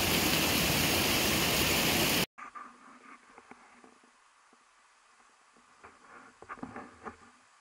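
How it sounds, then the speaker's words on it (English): The waterfall at Finley Falls in western North Carolina is heard first as a loud, steady rush that cuts off abruptly, giving way to quiet, muffled gurgling and bubbling with a few louder bursts. "Looks like the waterfall's coming out of that tree there."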